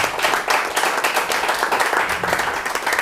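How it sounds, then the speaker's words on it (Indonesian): A church congregation claps and cheers in praise of Jesus, a dense steady wash of applause with rhythmic hand claps that stays loud and unbroken throughout. "Dengan sorak-sorai buat Tuhan Yesus"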